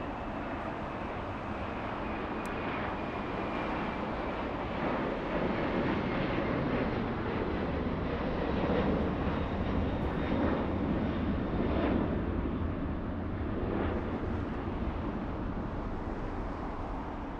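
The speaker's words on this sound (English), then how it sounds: "let's go over to the 767 flying to Lima," A Boeing 767 bound for Lima, Peru takes off at LAX, making a loud, continuous jet roar that holds steady throughout with no talking.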